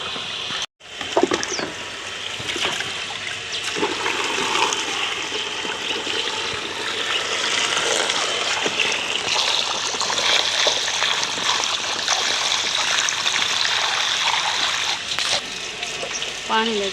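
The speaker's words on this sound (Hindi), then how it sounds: "अभी हम चलते हैं बोतलें भरने और जो पानी वाला काम है वो करते हैं।" Tap water gushes steadily and close up while bottles are filled, a continuous rushing stream that runs nearly the whole clip after a brief click at the start.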